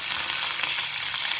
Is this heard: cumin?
yes